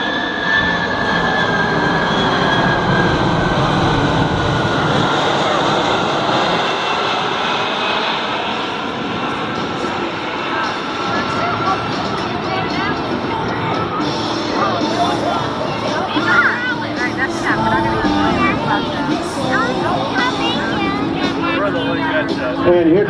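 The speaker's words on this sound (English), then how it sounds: "There you go, ladies and gentlemen, slow flight, C-5M Super Galaxy." A Lockheed C-5M Super Galaxy jet transport rumbles overhead in slow flight at an air show, its engines roaring steadily and loudly throughout while an announcer talks over the noise.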